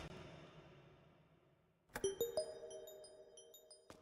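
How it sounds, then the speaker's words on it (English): Soft, clear chimes ring out in a horror-tinged night security video game, a cluster of bright tones entering after a quiet stretch and lingering with a resonant decay, then one last chime near the end. "Soothing chimes."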